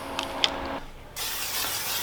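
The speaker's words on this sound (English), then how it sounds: "Little butter spray to make sure everything's not sticking." Butter cooking spray hisses from a can into a pan on the stove, a steady airy burst lasting about a second, with faint kitchen clatter before it.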